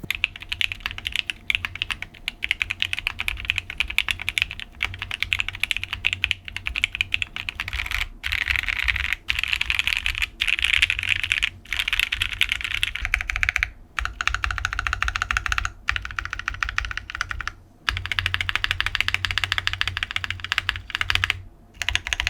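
Steady typing on an 80% mechanical keyboard with lubed and filmed switches and a thin PCB with a waffle weight, rapid dense clacks running continuously up close with a few brief pauses.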